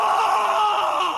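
A loud, sustained scream sound effect from the video game Super Mario Maker 2 on Switch, one continuous strained wail held at steady volume for just over a second.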